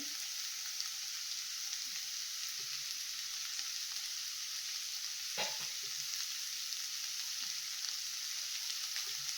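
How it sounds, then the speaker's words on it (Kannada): Grated coconut cooks in a pan, with a steady, close frying sizzle under a stirring spoon and one brief scrape near the middle. No voices. "ಕಾಯಿ ತುರಿ ಹಾಕಿ ಒಂದು 2ರಿಂದ 3 ನಿಮಿಷ ಬೇಯಿಸ್ಕೊಳ್ಳೋಣ."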